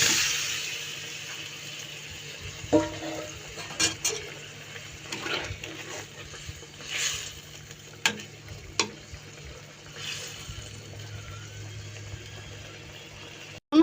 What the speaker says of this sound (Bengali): এখন দিয়ে দিব ভেজে রাখা মাছ